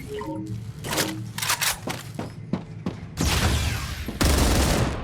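Rapid bursts of automatic gunfire from a StarRupture weapon fitted with a cooled barrel: scattered sharp shots give way to long, loud, sustained streams of fire, with no speech.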